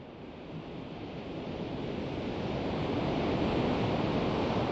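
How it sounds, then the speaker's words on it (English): Ocean surf on the Sydney coastline near an ocean pool, a continuous loud broadband roar of breaking waves that swells slightly louder over the few seconds, with no voices. "a good-sized wave breaks behind the ocean pool"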